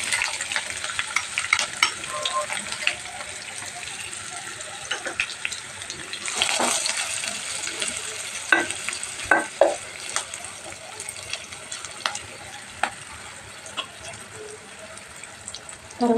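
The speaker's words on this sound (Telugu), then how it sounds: "కొంచెం వేగిన తర్వాత ఉల్లిపాయలు వేసుకోవాలి." Onions sizzle in a pan of hot oil while a spoon stirs them, giving a steady frying hiss broken by irregular scraping clicks, with a brief louder surge of sizzling partway through.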